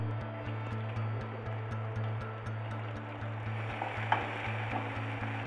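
Mustard seeds, curry leaves and onion frying in a pan for a plantain dish, a steady close sizzle with faint crackles and a regular low pulsing hum underneath, no talking.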